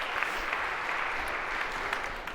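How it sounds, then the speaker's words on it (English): A lecture-hall audience claps for a volunteer coming up on stage, an even, sustained round of applause from a crowd of students, moderately loud and unbroken. "A round of applause for being so brave."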